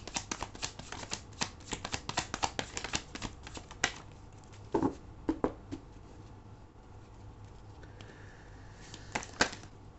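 Tarot cards are shuffled by hand in a quiet room, making a quick run of soft riffling taps and flicks that slows into a few scattered clicks, faint and without talk.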